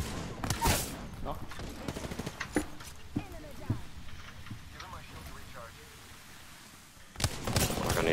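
Bursts of gunfire in Apex Legends, sharp cracks that open loud, thin into scattered shots and return as a heavy burst at the end, with a voice talking over the fight.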